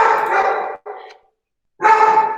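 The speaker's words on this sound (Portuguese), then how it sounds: "eu acho que o cachorro da minha vizinha tá latindo" A neighbor's dog barks in two bursts, a sustained bark then a short one, a pause, and another loud bark, close and clear with no talk over it.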